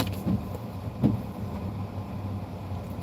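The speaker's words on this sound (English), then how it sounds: "that's how the car is supposed to sound." A V6 car engine runs at idle in low, steady rumble, with a couple of brief louder knocks near the start, no voices over it.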